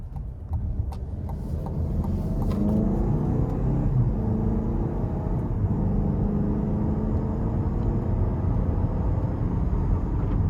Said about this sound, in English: next we're gonna go ahead and take this 2023 Buick Envision out on the road for a quick test drive.